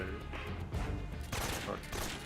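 Gunfire from the stealth video game Metal Gear Solid 3: Snake Eater, a dense burst of shots rattling loudly through the whole moment with no one speaking.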